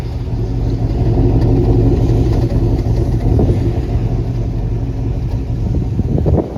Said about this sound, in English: But let's go ahead and hear the exhaust.